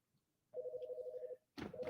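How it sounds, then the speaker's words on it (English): A telephone rings in two electronic bursts, a longer trill then a second one starting, fairly close and clear against a quiet room. "Don't want that ringing in the background."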